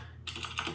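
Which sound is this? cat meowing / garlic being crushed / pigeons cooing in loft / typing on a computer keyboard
typing on a computer keyboard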